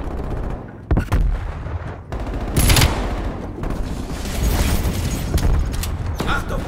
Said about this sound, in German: sauberer Schuss.